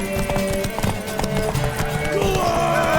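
In The Witcher 3 video game, a horse gallops in a quick rhythmic clip-clop of hooves, close and loud, with music and a brief voice in the background.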